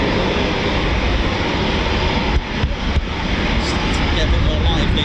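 Eurofighter Typhoon FGR4 jet roar at RAF Coningsby, a QRA station, as a steady, loud, broadband rumble that holds throughout, dipping briefly near the middle, with voices faintly mixed in.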